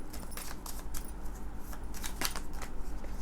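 Tarot cards shuffled by hand, a run of close, papery riffling bursts and flicks at an uneven pace, with no voices.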